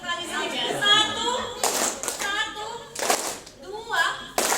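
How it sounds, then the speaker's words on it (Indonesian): A group of adults at a school training session claps in unison on a spoken count, several distinct burst claps spaced about a second apart, under an instructor's voice. "Saya hanya bilang satu, tepuk tangan satu kali saja."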